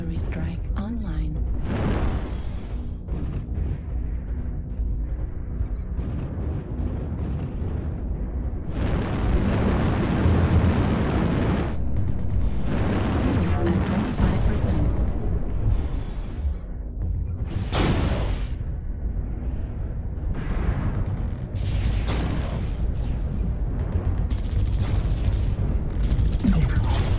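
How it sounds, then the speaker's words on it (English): Artillery strike explosions in the video game MechWarrior Online land as repeated heavy booms and rumbling blasts over a long stretch, with players talking over the barrage. "Artillery strike online."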